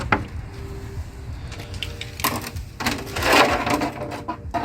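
A 10mm socket wrench removing bolts on a car during an MS6 downpipe install, heard as scattered ratcheting clicks and metallic clanks close by, irregular and moderately loud, with no talking.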